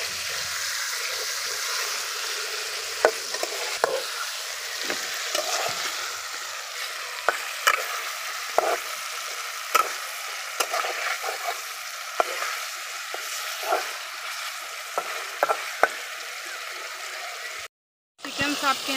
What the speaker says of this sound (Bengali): আমি একে একে চিকেনগুলো তেলের উপর দিয়ে দেব